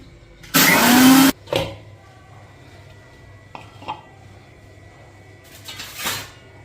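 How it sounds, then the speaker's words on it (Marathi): A kitchen mixer grinder whirs through mango pulp and sugar in one loud, short burst under a second long, followed by a few scattered clunks and knocks. "मँगोचं पल्प मिक्सरला फिरून घेणार आहे साखर टाकून"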